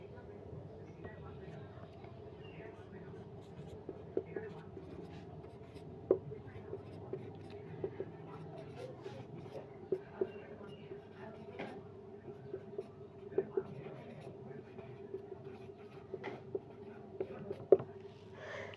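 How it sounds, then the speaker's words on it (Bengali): Pen or marker writing an example sentence by hand, with scratchy strokes and taps running steadily close by under a faint hum from the room, and no talk over it. "দেখো আমি একটা উদাহরণ লিখছি"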